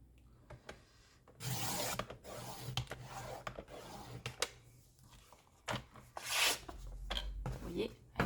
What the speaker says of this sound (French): avec une vieille lame de coupe, ça se coupe très bien